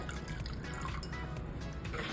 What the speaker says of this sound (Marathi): याच दह्यामध्ये थोडं पाणी घालूया